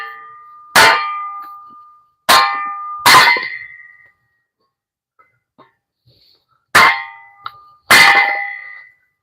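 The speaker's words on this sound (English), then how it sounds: "I'm going to make a little noise here," A firewood log is struck and split inside a hot tent with a wood stove. Five sharp, loud metallic clangs ring out, each decaying quickly, separated by quiet gaps.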